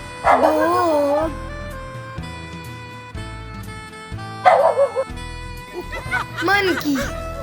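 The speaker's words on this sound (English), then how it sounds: "Dog." Dog barking and yipping in several bursts with short whimpering notes between them, close and fairly loud, with no other sound.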